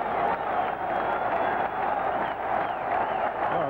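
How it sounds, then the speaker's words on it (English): A baseball stadium crowd roars steadily throughout a 1982 Yankees–Mariners game in Seattle, a loud, continuous wash of cheering voices heard from a distance. "Oh, listen to this crowd."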